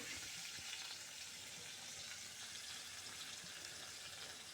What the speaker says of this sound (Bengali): রোস্টের জন্য মুরগিটা আমি ভাজে নিলাম ভাজে নিতেছি তো ভাজা হইতে থাকবে